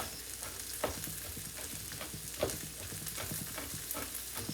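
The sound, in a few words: garlic and onions frying in a pan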